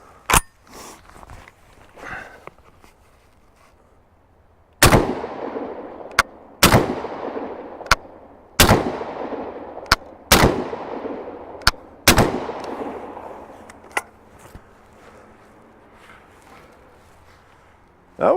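Rock Island Armory VR80 12 gauge semi-auto shotgun firing outdoors: about eight loud, sharp blasts, single shots and quick pairs spaced a second or two apart, each with a short echoing tail, after a few quieter handling clicks at the start.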